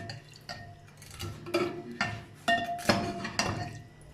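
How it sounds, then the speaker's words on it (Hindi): A spoon clinks and scrapes against a pot of vermicelli cooking in full-cream milk over low heat, giving irregular metallic taps about every half second with soft liquid stirring between them. "हल्की आंच पर चम्मच चलाते हुए"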